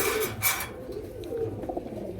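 Domestic fancy pigeons coo nearby in low, soft throaty calls, several overlapping murmurs with a faint hiss of background noise.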